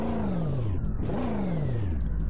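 A tow truck's 6.0 engine in a Roblox game revs with a throaty tone, the pitch dipping and then climbing again in a steady synthetic loop, loud and close with no talk.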